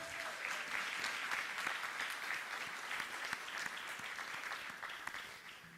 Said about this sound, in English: Let us give a big round of applause for the students who entertained us.